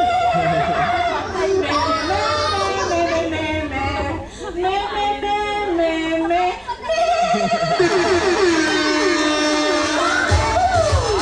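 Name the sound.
person imitating a goat bleating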